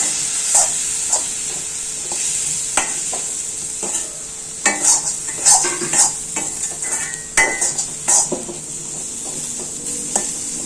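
A steady hiss of chopped capsicum and spices sautéing in a pan, with a spoon scraping and clinking against the metal at irregular intervals.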